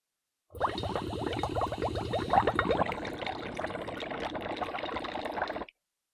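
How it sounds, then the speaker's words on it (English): A balloon's explosive hydrogen-oxygen mixture is shot into soapy water, making a steady, close, bubbling gurgle that churns without pause for about five seconds, then stops abruptly. "This new mixture is actually explosive, and I'm just going to shoot it into some soapy water."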